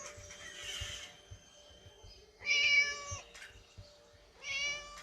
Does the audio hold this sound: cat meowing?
yes